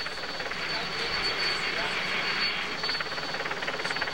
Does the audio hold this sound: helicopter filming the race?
yes